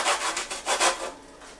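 A handheld grater scrapes citrus zest while beignets are being made. Quick rhythmic rasping strokes, close and soft, come about six times and then fade.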